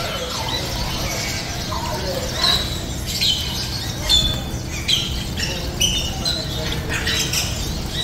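Java sparrows, both white and pied birds, chirp and squeak in bursts at a busy animal and bird market, with crowd murmur and other animal noise underneath.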